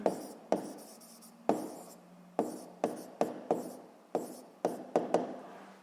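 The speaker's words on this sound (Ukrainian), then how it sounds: "Пишемо відповідь." An answer is written by hand, with crisp scratchy pen or pencil strokes arriving in short separate bursts, about a dozen of them, close and clear with no voice.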